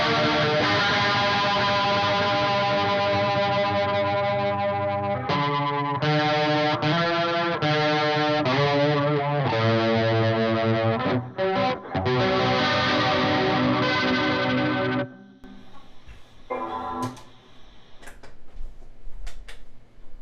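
Electric guitar run through a chorus pedal with every setting turned to maximum, playing loud sustained chords with a heavy warbling shimmer and several rhythmic chord changes, then cutting off to quieter picking and scratchy string noise at the end.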